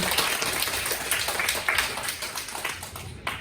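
An audience at a 2022 early childhood education department practicum review session at Kyungdong University's Jayang Hall gives student presenters a steady round of applause, dense clapping that carries evenly through the whole stretch.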